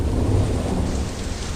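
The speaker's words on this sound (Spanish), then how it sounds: "Las tormentas azotaban los cielos y la lluvia comenzó a caer sobre la superficie rocosa" Heavy rain pours down during a thunderstorm, a dense steady hiss with a deep low rumble of thunder rolling beneath it.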